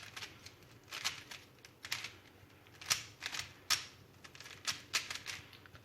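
A 3x3 Rubik's cube being scrambled by hand gives quiet, rapid plastic clicks and clacks in short irregular bursts, close by, with no talking.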